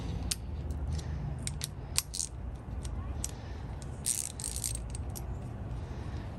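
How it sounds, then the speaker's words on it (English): A small quarter-inch drive ratchet clicks in short, irregular bursts of metallic ticking, close by and moderately loud, over a steady low background rumble while working on a 2001 Suburban. "so that's a 1/4 inch drive, so I'm going to use the small ratchet"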